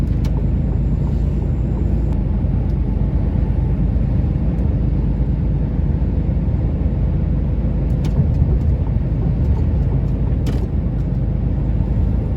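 A car on a snowy winter road in Poland, heard from inside as a steady, loud low-frequency road and engine rumble that continues unbroken with no voices.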